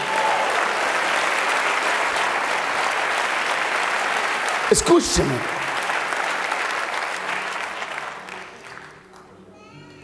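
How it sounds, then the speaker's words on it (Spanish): A church congregation applauds steadily as a dense, sustained wash of clapping, broken midway by a short spoken word before the clapping tapers off near the end. "Dele un aplauso al Rey de Reyes."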